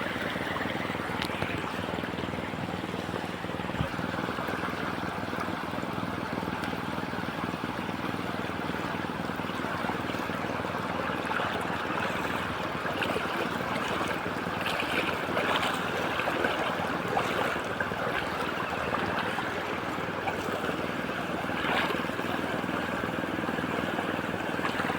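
River water flowing, a continuous broad rushing wash heard steadily throughout, fairly even in loudness with faint background sounds underneath.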